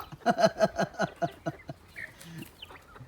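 Chickens clucking close by in a rural yard at evening, a rapid run of loud rhythmic clucks in the first second and a half, then quieter scattered calls.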